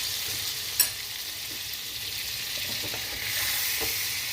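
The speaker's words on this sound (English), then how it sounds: "We're gonna add our butter right there." Butter sizzling in a hot pan for buffalo wing sauce, a steady broadband frying hiss running throughout with a brief sharp pop near the start and no talking.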